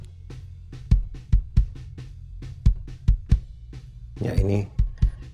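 Kick drum with all processing switched off, played through an Allen & Heath Avantis mixing console: a dozen or so punchy, deep thumps in an uneven pattern, with a short burst of speech near the end.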